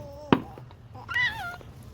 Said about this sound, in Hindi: ए बिल्ली हे बिल्ली आइलानी